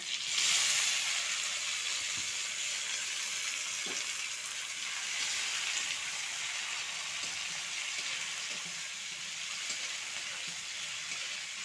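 Chopped tomato sizzles steadily while frying in a hot pan, with a constant close hiss and a few faint knocks underneath.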